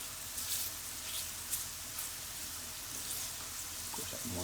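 Chicken pieces browning in a pan for cashew chicken: a steady, even sizzle of frying with soft crackles, close up and without talk.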